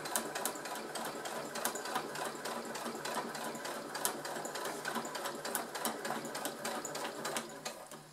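A sewing machine stitches slowly and steadily 5 mm from the edge of a fabric glasses case, a close, continuous mechanical whir with a faint rhythmic needle tick throughout.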